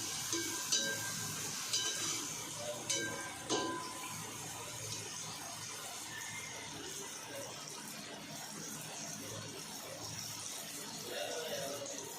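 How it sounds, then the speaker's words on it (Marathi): Anarsa sweets frying in ghee over a low flame, a soft continuous sizzle and bubbling with a few clinks of a utensil near the start while someone talks over it. "आणि कमी गॅसवरच तळायचा अनारसा, असं तेल टाकत टाकत तळायचा अनारसा."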